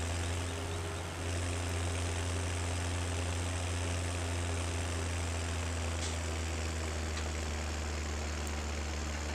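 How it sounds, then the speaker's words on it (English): A tractor engine idles in the Farming Simulator 17 video game, a constant low droning hum with a steady tonal throb and no change in pace throughout. "Let me just tab back to my tractor."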